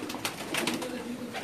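Pakistani pigeons coo on a rooftop loft in Jeddah, a close, continuous run of soft throaty coos with faint background voices.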